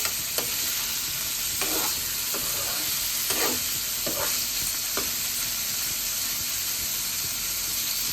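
Paneer cubes frying in hot oil in a pan give a constant loud sizzle, broken by several short scraping strokes of a spoon stirring.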